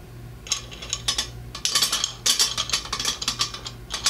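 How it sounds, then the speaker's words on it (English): A ratchet wrench tightens nuts on the saddle clamp of a battery-powered saddle flow meter, giving rapid clicking strokes in repeated bursts, close and clear, with no voices. "Tighten the nuts down."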